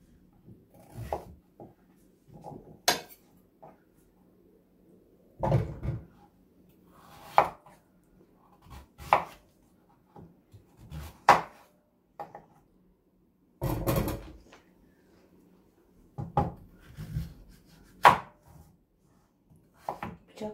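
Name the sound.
slicing zucchini with a knife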